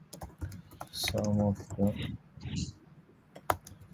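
Computer keyboard typing with scattered key clicks, heard close under an ongoing conversation during an online software demonstration.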